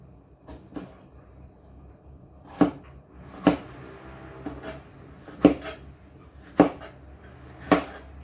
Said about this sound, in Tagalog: Then, slice natin mga loaves.